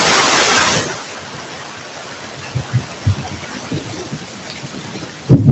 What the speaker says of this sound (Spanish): Podemos activar la lluvia.